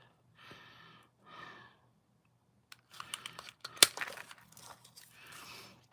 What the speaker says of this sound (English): line it up, and punch